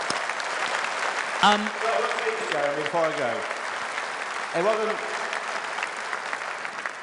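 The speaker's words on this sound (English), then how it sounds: "Should give him a big round of applause for Tice" Applause from a large crowd at a political rally in Birmingham, a steady roar of clapping that runs under someone speaking into a microphone with a slightly echoing tone.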